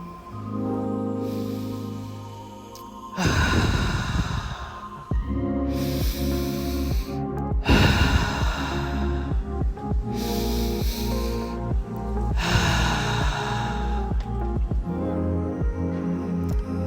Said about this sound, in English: let's take a few open mouth exhales to release any thoughts that may not be serving us